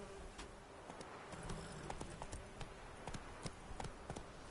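Horse hooves clip-clop steadily at a trot on the ground as Roach, the mount in the game The Witcher 3, carries its rider along, a continuous rhythmic patter of moderate loudness over faint ambient background.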